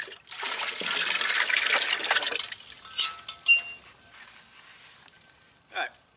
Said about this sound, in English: So we're going to just pour the spice mixture into here.